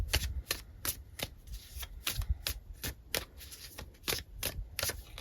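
Tarot cards pulled and shuffled from a deck, a rapid run of close, soft papery flicks and snaps in steady rhythm, with no talking.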